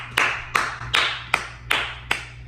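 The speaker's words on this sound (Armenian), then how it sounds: "մեր եկեք ծափ արենք" Hands clapping in a slow, regular rhythm, six sharp claps about a third of a second apart, close and clear with no talk, at an informal comedy gathering.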